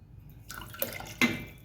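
Plain water splashes into a pot of spicy lentil-stock curry in a few short, uneven bursts, close by, with quiet gaps between pours and no talking.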